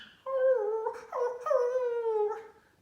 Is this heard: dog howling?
yes